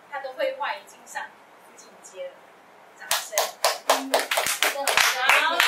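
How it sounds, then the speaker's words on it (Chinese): A classroom of students bursts into quick, sharp applause during a language lesson, loud and close claps tumbling in a dense run after a stretch of talk from the teacher and class. "掌声"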